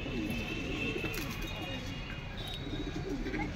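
Pigeons in a loft under netting during the rainy season give soft, low, repeated coos through steady background noise, with no clear talk over them.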